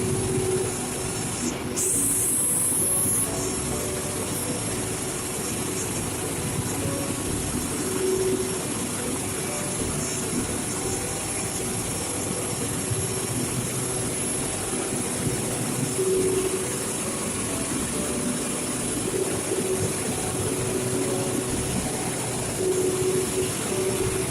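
Jenbacher 320 gas engine running in a power plant: a loud, steady industrial drone with a constant hum and broadband roar that holds unchanged throughout, with no talk.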